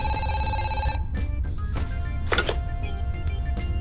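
A telephone rings in the horror video game Zoochosis, a brief electronic ring with steady tones, then it stops and a series of thunks and clunks follows against a low room hum.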